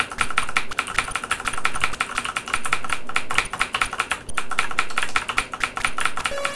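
Keys pressed on a Sinclair ZX Spectrum keyboard, close and loud, in fast irregular bursts of clattering taps with brief pauses between runs.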